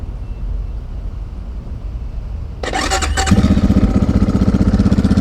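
BSE J3D 172 enduro motorcycle, a 16-horsepower engine, starting up: quiet background gives way to a starter whir and catch, then the engine settles into a steady, loud, close idle.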